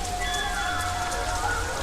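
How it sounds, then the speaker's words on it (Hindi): Steady heavy rain pouring on surfaces on a dark night, a dense continuous hiss with a faint tonal hum beneath, no talking. "उस रात भयंकर बारिश थी"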